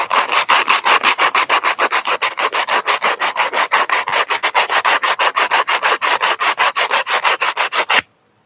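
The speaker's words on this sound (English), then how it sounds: "I want to sand the inside of the areas" Sandpaper rubs steadily on the inside of a plastic Stormtrooper armor part, a fast even rhythm of about five scraping strokes per second, close and continuous for eight seconds before stopping abruptly.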